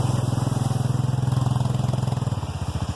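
Massimo MSU 500 UTV engine running as it approaches, a loud, close, pulsing rumble with an even chugging beat that loosens slightly toward the end.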